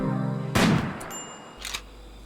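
Gunfire in the colony-management game RimWorld: a sharp burst of noise fills the middle of the clip, followed by a second, fainter crack, with no talk.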